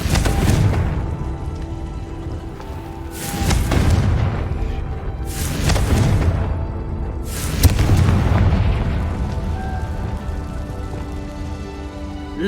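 Explosion spells in the Hogwarts Legacy video game go off as four heavy booms about two seconds apart, each a loud broadband burst that decays into a rumbling, crackling tail.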